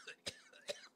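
Two sharp, close coughs from a character in Snow Plowing Simulator, spaced a short moment apart, harsh and brief with nothing else around them.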